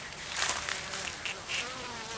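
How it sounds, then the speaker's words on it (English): Bees buzzing close by, their drone rising and falling as they fly past in short, uneven swells. "Those are bees flying around."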